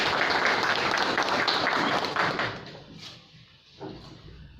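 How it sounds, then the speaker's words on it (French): An assembly audience applauds loudly in a dense wash of clapping that fades out after about three seconds, leaving a quieter room. "Si je peux vous demander de l'applaudir."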